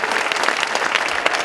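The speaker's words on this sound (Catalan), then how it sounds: "un fort aplaudiment per Josep Maria Torres" Dense audience applause fills a hall at a hockey club's 60th anniversary celebration, steady and fairly loud throughout the short burst with no speech over it.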